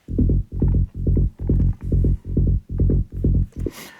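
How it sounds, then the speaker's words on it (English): Low-focused synth bass line for peak-time big room techno made in FL Studio, eight evenly spaced pumping notes in a steady throbbing rhythm, loud and alone, ending in a brief noisy burst. "for this bass line, I only wanted to focus on the lower range frequencies"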